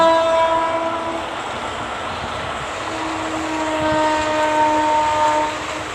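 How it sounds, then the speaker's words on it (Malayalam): A train runs along a railway track beside a backwater, its steady rolling rumble carrying through the whole stretch with sustained horn-like tones rising and fading, no voices over it. "അതുപോലെ ട്രെയിനിൻ്റെ ശബ്ദം അടിപൊളി."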